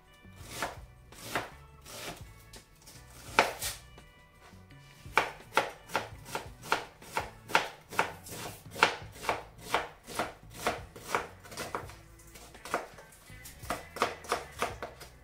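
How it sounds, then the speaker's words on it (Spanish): A knife chops an onion into julienne strips on a board, a long run of crisp, evenly spaced cuts close up, steady and rhythmic with only brief pauses, no talking. "lo primero que vamos a hacer es cortar una cebolla en juliana"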